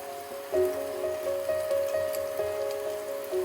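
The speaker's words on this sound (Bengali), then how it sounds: "পেঁয়াজটা একটু লাল করে ভেজে নিতে হবে।" Onions fry in a pan for a Bengali pomfret fish curry, giving a steady, close, soft sizzle with a faint tonal hum underneath, without talk.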